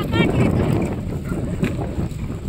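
Strong storm wind gusts beneath a mango tree, roaring loudly and continuously against the microphone like a rushing blast, with shaking branches buried in the dense noise.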